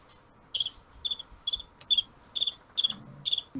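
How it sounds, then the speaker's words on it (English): A cricket chirps in a steady run of about eight short, bright pulses spaced roughly half a second apart, clear and close against a quiet background without voices. "That's a cricket."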